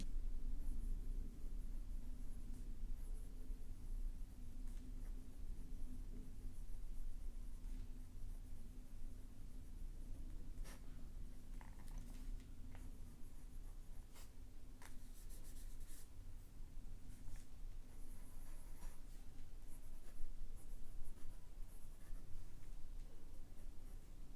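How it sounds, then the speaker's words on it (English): A Jinhao 10 fountain pen with a fine nib writing on paper, giving a soft, continuous close-up scratching with small stroke clicks over a low steady background hum, and no speech. "Let me set this down and write a little bit more, give you guys some better samples."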